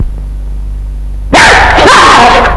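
A dog barks loudly and suddenly, close by, in a burst of excited barks and yips after a quiet start, from an old Tamil film soundtrack.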